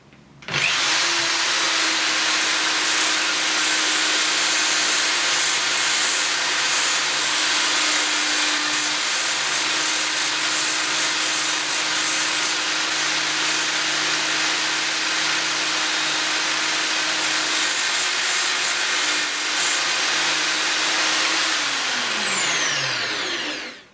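An auto drill bit sharpener grinds a drill bit in one long, loud, steady whine lasting over twenty seconds, with a high sustained tone, then winds down at the end; no one speaks.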